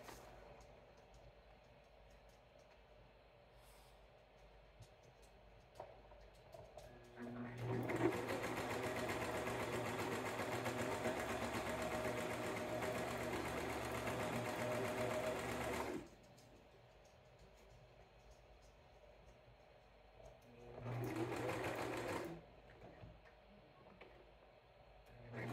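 Sewing machine stitching an apron waistband made from a bed sheet: a long run of rapid, close mechanical stitching, a pause, then a second shorter burst.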